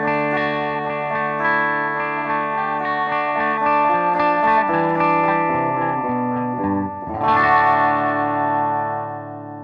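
A cheap Monoprice Indio electric guitar played on the bridge pickup through a clean tone with light reverb and delay rings out in sustained chords, with a fresh strum near the end that decays, up close and without talking.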